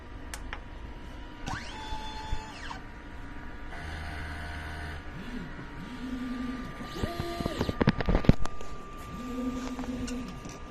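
Inkjet printer running a nozzle check after a head clean, with repeated mechanical whirring passes of the print carriage and motor, separated by brief pauses and sharper clicks, fairly close against a steady low hum.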